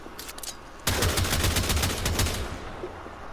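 Tiberon Prime rifle firing in Warframe, a rapid automatic burst of sharp shots bursting in after a quieter stretch of faint shots, loud and steady for about two seconds before tapering off.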